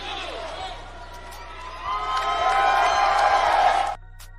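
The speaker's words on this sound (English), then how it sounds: "Enjoy that right now, the cheering, because you're not going to hear it too much longer." A large arena crowd at an AEW wrestling event cheers for Mercedes Moné, a dense roar of whoops and shouts that swells louder midway and then cuts off abruptly.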